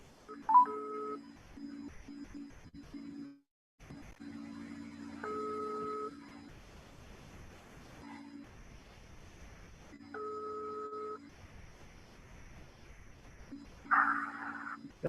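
A telephone call placed during a virtual training closing ceremony: repeated electronic ringback tones in steady on-off cycles with brief dial beeps, faint and thin over low background hum.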